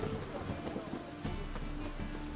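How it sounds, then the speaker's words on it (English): Rain falls steadily in The Witcher 3: Wild Hunt, a dense continuous patter with low rumbling underneath and a few soft knocks. "And it's raining again."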